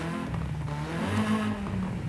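A stock car engine in Forza hums and revs steadily, its low tone rising slightly midway, with a synthetic, game-like quality and no talking.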